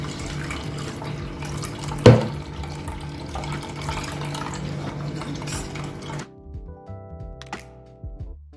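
Water pours from a tap into beetroot and carrot juice in a home kitchen, a steady continuous splash with one sharp thunk, then cutting off into a quiet room with faint clinks.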